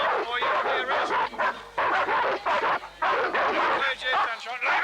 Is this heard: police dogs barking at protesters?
yes